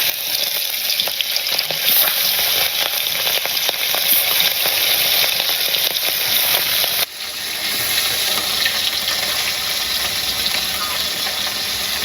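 Fish drops into hot oil seasoned with cumin seeds, giving a loud, continuous close-up hiss of frying that shifts abruptly partway through and then carries on sizzling steadily.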